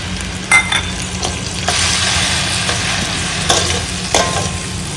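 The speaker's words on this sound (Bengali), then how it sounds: "আদাটা দিয়ে হালকা একটু ভাজবো ভেজে টমেটো পিউরিটা দেবো" Ginger and tomato puree fry in a pan with a continuous close sizzle, broken by several sharp scrapes and clinks of stirring, with no one talking.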